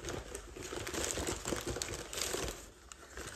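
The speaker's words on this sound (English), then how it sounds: "excuse the rustling" Close, continuous crinkly rustling like paper or plastic being handled, fairly quiet and steady, with no talking over it.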